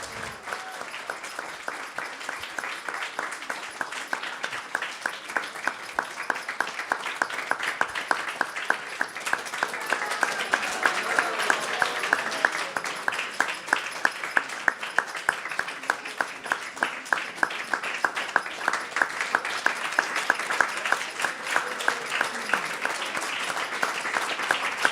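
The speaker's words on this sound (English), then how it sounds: "So if everybody can give a round of applause." Sustained applause from a crowd of devotees at a youth gathering, dense steady clapping that swells slightly through the middle and keeps going without pause for the whole stretch, with no voices standing out.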